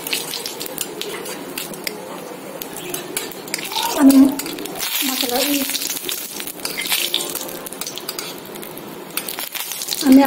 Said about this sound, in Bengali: আমি আমড়াটাকে লাল করে ভেজে নিব, ভেজে দিচ্ছি আমড়াগুলি